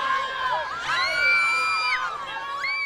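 Several voices wail and scream from a haunted screaming fence in a TV show set, with overlapping rising and falling cries. The cries are loud and continuous throughout.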